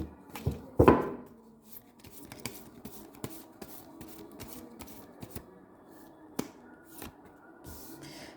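Tarot cards shuffled by hand in a quiet room for a card reading, a quick dense riffle near the start followed by scattered soft taps and flicks of handled cards.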